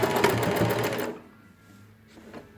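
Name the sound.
sewing machine stitching a backstitch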